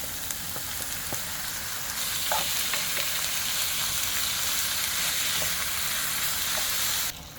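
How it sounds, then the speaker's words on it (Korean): Onions and seasoned beef stir-fry in a pan over a gas flame, a dense, continuous close sizzle with occasional light scraping from stirring, for a beef red pepper paste dish. "양파를 볶다가 양념한 고기를 여기다가 또 다시 이제 넣고 볶을 거예요."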